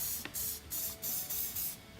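Hairspray sprays over static grass scenery on a model railway layout in a series of short, close hissing bursts, about six in quick rhythm, with no talk.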